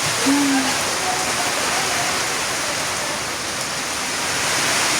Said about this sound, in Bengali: যেমন বৃষ্টি তেমন বাতাস শুরু হয়ে গেল